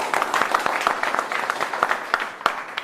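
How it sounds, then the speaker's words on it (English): A small classroom audience at an English-speaking debate on education applauds a second debater, giving a short, uneven round of clapping with distinct individual claps at moderate volume. "And here, please clap for Mr."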